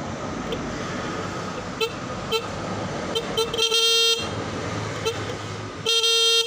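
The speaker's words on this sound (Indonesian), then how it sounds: "jadi dia masih bekerja ya, masih klakson masih hidup, padahal ini klakson lama" An old horn on a Yamaha Jupiter MX motorcycle honks in a few brief toots, then two longer blasts, loud and close against a steady noisy background.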